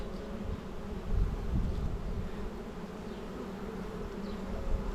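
Honeybees buzz steadily around an open beehive during hive work, a dense, continuous hum with individual bees drifting close and away, no talking.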